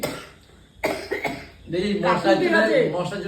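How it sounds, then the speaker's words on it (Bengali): A couple of sharp coughs break out close by, followed by someone talking. "কাশি উঠছে"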